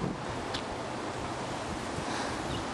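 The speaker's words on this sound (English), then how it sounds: "as you see, it's really windy" Strong wind blows steadily through a front yard with a tree, a broad, constant roar with gusty swells and rustling, with no voices.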